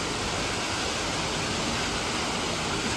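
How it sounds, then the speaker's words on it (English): Water pours out of a rock crevice at St Nectan's Glen near Tintagel, making a dense, steady rushing hiss that fills the short stretch with no pauses. "It's quite something how that water just pours out of that"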